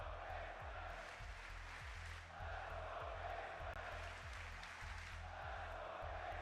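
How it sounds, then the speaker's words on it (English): A large esports arena crowd roars and cheers at a Counter-Strike 2 match on Mirage, a broad sustained wall of voices swelling in waves under a steady low rumble. "Crowd support rallying now."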